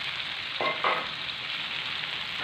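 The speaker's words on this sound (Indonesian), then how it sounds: "Kita masukkan tempe yang sudah digoreng tadi" Pieces of already-fried tempe dropped into hot oil for a simple stir-fry, a steady close sizzle with a couple of brighter bursts as the pieces hit the pan.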